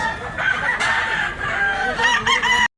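Poultry sound steadily and close at a gamecock sale in Tabunok, Cebu, where a yellow-legged bullstag rooster is on offer; raspy crowing and clucking run for a few seconds before cutting off abruptly.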